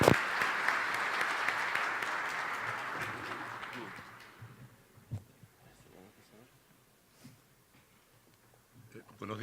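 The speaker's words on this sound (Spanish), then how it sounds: "Les pido un aplauso para el doctor Arriazu." Audience at an annual economics congress applauding loudly for about four seconds. The clapping fades out and a lone voice begins speaking in a quiet hall.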